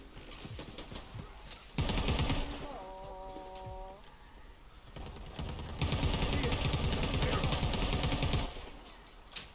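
Bursts of rapid automatic gunfire in Predator: Hunting Grounds, two long loud volleys separated by a quieter gap with a short tonal electronic sound, ending with a single sharp shot.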